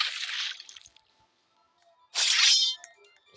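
Splashy water sounds from the Roblox game Steal a Brainrot, two short bursts of sloshing with a quiet gap between them, fairly soft and close.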